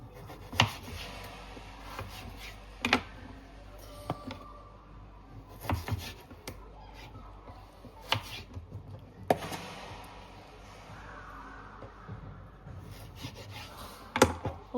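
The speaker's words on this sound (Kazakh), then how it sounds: "Онша үлкен емес, онша кішкентай емес, орташа қылып осылай турап" Chicken and potatoes are cut into medium pieces with a knife on a board, giving irregular sharp chopping knocks spaced a second or two apart over a quiet kitchen background, close and with no speech.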